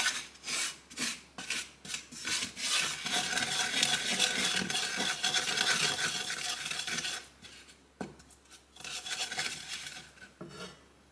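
Soy milk being whisked into flour for sausage gravy, a rhythmic scraping and rasping of a utensil against the pan bottom, loud and close, with brief pauses between strokes.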